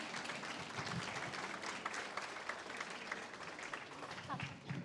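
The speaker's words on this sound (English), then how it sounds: "So you can all give yourselves a round of applause and say thank you to one another for being here" Audience at a high tea applauding one another, a continuous wash of many hands clapping at moderate distance, fairly quiet and even throughout with a faint murmur of voices underneath.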